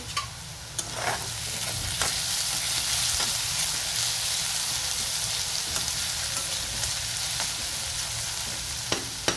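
Onions caramelizing slowly in a pan over a low flame for akkha masoor, a steady soft sizzle running throughout with occasional faint stirring clinks, close and moderately loud with no talk.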